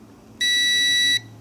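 Multimeter continuity beep while probing the heater wires of an O2 sensor: one steady, loud tone lasting under a second, standing out against a quiet background hum.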